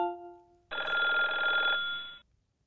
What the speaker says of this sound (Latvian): Mans telefons zvana.